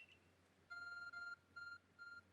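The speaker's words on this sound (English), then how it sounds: "Arc phone is beeping." An Arc Phone in Pokemon Legends Arceus beeps in a quick patterned sequence of bright electronic tones, two long and two shorter, over a faint low hum.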